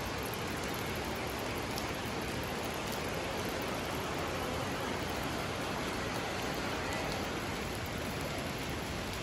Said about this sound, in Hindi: बारिश जो है वो रुकने का नाम नहीं ले रही है